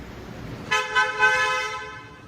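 A single car horn honks loudly and close, holding for over a second before fading, with faint ambient noise before it.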